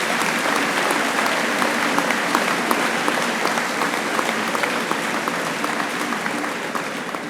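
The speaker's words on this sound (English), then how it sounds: "Let's give them a round of applause." An audience at a school speech night claps for a group of students, a thick, continuous roar of applause that stays loud and even, tapering slightly toward the end.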